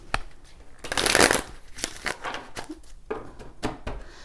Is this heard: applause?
no